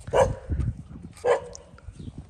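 A dog barks twice at a car accident salvage yard in Lâm Đồng, Vietnam: two short, fairly close yelps about a second apart over low rumbling background noise.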